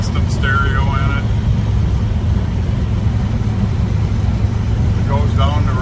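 A 1967 Chevrolet El Camino with custom stereo and coil-over front shocks drives down the road, its engine and road noise a steady low rumble beneath continuous talk.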